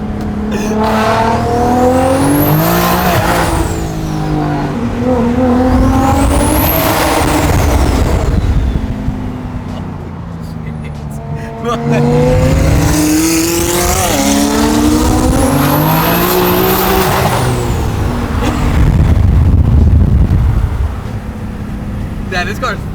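Twin turbo Audi R8 engine revving hard under load while driving, swelling and falling in repeated sweeps up toward redline, loud and close with tire noise and voices talking over it.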